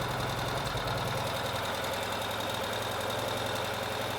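A Ural sidecar motorcycle engine idles after a fully cold start, a steady low, throbbing rumble with a slight knocking pulse that holds even and continuous throughout.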